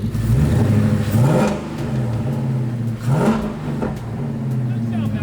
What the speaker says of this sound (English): give it a rev and try to pull it back and forward.